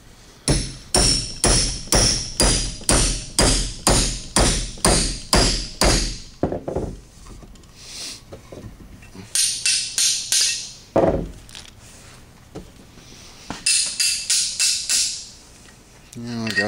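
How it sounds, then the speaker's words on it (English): A hammer drives a metal drift against an axe head to knock out the old wooden handle, with a rapid run of about a dozen sharp, loud strikes, then scattered blows, pauses and bursts of talk. "just take a drift and try to knock that old wood out"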